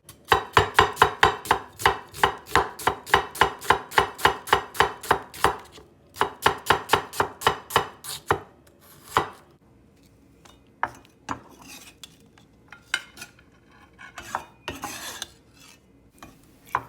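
Half an onion is chopped with a knife on a cutting board in a fast, steady run of close, crisp thuds that pause briefly, resume, then thin out into scattered scraping and lighter taps.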